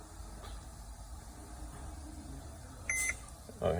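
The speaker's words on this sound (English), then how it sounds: "hold it down, you hear a beep" A Mercedes Sprinter dashboard gives a single short, clear beep during an oil service reset. It rises over a faint low cabin hum and is followed by a brief clunk.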